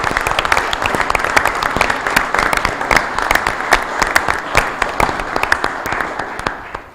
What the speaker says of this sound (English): if I could just ask for a round of applause for you